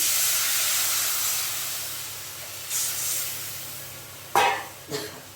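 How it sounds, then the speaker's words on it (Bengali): Water poured into a pan of sautéed ginger and turmeric gives a soft, steady hiss that fades, then two short, louder bursts of sizzling steam near the end. "এবার আমি জল দিয়ে দিচ্ছি"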